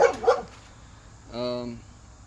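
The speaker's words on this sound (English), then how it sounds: "The dogs next door won't shut up." A couple of sharp barks from neighbouring dogs at the start, followed by a longer whiny yelp or howl, with no speech.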